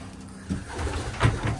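Pigeons cooing in the cock section of a pigeon loft: a few soft, low coos close by, with faint rustling in the background.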